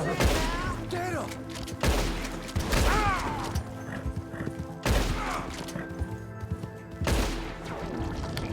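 Gunfire in the Western video game Red Dead Redemption 2: loud, sharp shots land about every two seconds, each followed by a ringing tail, mixed with voices and horse noises.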